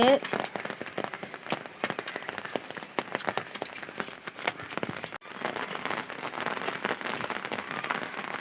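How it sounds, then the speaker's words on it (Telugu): Rain patters densely on a nearby surface, with scattered louder drops and a brief break midway before the steady downpour continues. "వాన"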